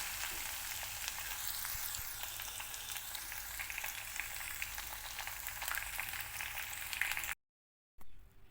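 Spices tempering in hot oil for a dosa chutney give a steady, close, even sizzle with fine crackles that runs unbroken for about seven seconds, then cuts out abruptly and briefly returns.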